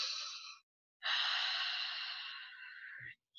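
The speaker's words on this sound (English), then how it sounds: "just inhale and exhale." A person draws in a deep breath and lets it out slowly, two long airy breaths close to the microphone with a pause between them and a faint soft thump at the end.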